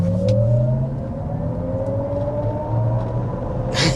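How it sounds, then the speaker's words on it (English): Cadillac LYRIQ electric car accelerating in sport mode, a steady rising electric whine over low road rumble heard from inside the cabin, climbing smoothly in pitch for several seconds with no speech. "we're going to do an acceleration here in the sport mode"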